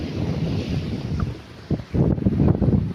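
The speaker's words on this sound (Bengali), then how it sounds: "আর এখন দেখো জোয়ার হচ্ছে" Waves of the incoming tide washing onto the beach at Mousuni Island, a steady rushing surf buffeted by heavy wind noise, with a few brief louder splashes near the end.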